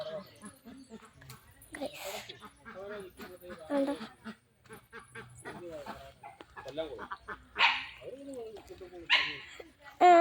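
A dog barks a few times in short bursts amid busy chatter at a house, with other animal calls, including cats, and people talking close by.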